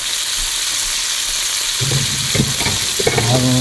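Chicken sautéing for tinola sizzles steadily in a hot pan, with scraping stirs and clatter joining partway through, close and fairly loud.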